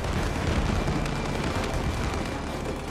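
Fire canisters explode in the co-op video game It Takes Two, a dense, continuous roaring rumble of blasts filling the whole stretch at steady loudness.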